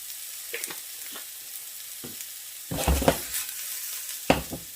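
Golden oyster mushrooms frying in a pan with salt and garlic, a soft steady sizzle broken by a few stirring scrapes and bursts of louder crackle, close and without talk.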